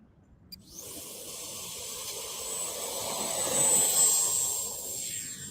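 An RC model airplane with a notch of flaps set takes off, its electric motor spooling up into a loud, steady high-pitched whine that builds and swells as it climbs away, with no talk over it.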